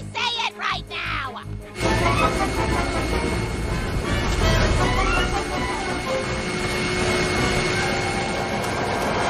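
A vacuum cleaner kicks in after a brief burst of voice and keeps running as a loud, steady roar with rattling and whining mechanical tones underneath.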